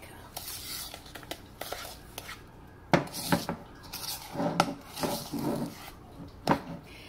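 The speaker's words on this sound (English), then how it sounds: "Try to make sure you can see how I'm mixing it" Cookie dough being stirred in a bowl, with soft scraping and knocking of the spoon against the bowl coming in irregular bursts at close range; faint whispery sounds sit in the background.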